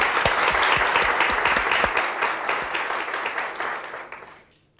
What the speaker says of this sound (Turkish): Hani alkışları?